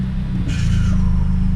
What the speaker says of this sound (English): So about to go for a drive, and fingers crossed that it still stops at least.